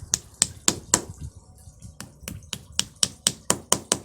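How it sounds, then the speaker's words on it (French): Sharp, close taps of a small plastic mallet fixing the base of an outdoor wall light, about fourteen crisp knocks in a quick, even rhythm with a brief pause midway. "marteau, un petit maillet en plastique"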